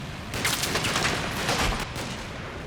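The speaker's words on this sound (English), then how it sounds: "German assault gun makes itself known." German assault gun firing in battle on the road to Wiltz, a dense burst of loud, rapid gunfire and blasts lasting about a second and a half over steady background rumble.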